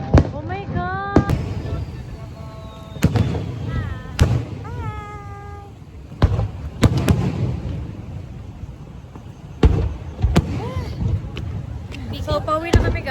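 Fireworks at a Japanese summer festival (matsuri) at night: repeated loud booming bursts at uneven intervals, some in quick clusters, with crowd chatter and excited voices throughout.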